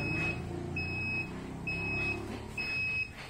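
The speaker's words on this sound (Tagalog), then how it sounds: "Pag nag-36 po, mawawala yung alarm." A digital thermometer alarm gives four evenly spaced, high-pitched electronic beeps over quiet room noise.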